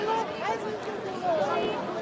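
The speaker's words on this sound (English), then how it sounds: "The crowd is dispersing." Crowd chatter at a dispersing Iranian protest on Parliament Hill in Ottawa: close, steady murmuring voices that overlap in a continuous babble.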